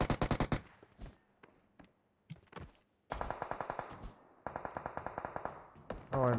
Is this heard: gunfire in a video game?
yes